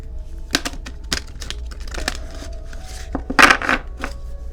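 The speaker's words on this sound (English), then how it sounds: "I'm just going to give these a quick shuffle." Crisp papery riffling and clacking of oracle cards being shuffled, a series of sharp bursts close to the mic with one louder flurry near the end.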